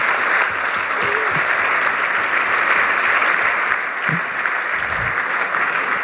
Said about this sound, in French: je crois qu'on peut lui aussi un peu l'applaudir